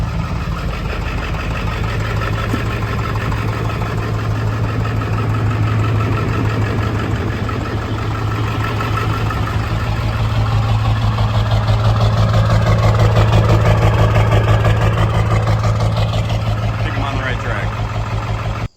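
Ford 7.3L Powerstroke diesel in a truck idling steadily up close, a constant low rumble with a faint rhythmic knock, swelling slightly louder toward the end.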